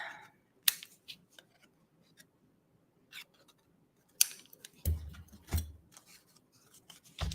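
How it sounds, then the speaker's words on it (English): Scissors snip through the string tails of a bow on a paper craft project, making a few sparse, close crisp cuts and light rustles separated by quiet gaps, then two louder sharp snips near the end. "Cut the tails off."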